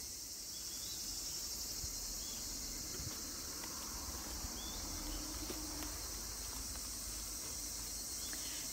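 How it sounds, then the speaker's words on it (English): Insects chirping in tall grass outdoors in Tomioka, Fukushima, a dense, continuous high buzzing chorus with occasional rustles and faint bird calls, steady and moderately loud throughout. "There are a lot of insects and spiders and stuff"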